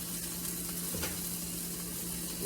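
Venison burger patties fry in a skillet with a steady, dense sizzle and crackle that holds at an even level throughout, close to the pan with no voices.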